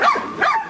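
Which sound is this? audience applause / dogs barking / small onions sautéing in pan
dogs barking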